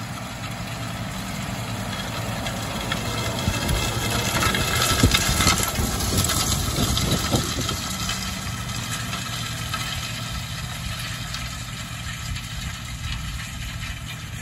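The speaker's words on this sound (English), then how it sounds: "now we're just going over with a Mzuri Rezult stubble rake, just to try and cover the seed up a bit" A tractor drones steadily as it pulls a Mzuri Rezult stubble rake across a field sown with winter barley and rye, with a loud, continuous low engine rumble and rattling implement noise close by.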